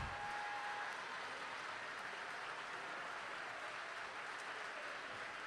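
South County fans applaud at a high school boys basketball regional final, a broad, steady wash of crowd clapping heard from a distance, fairly faint and even from start to finish.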